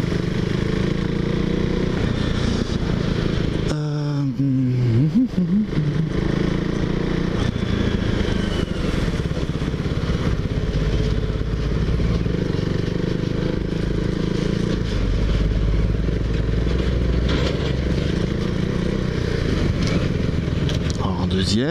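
A KTM Duke 390 motorcycle on a ride in Thailand, engine droning loudly and steadily with a rising rev sweep early on, under wind noise and a talking rider.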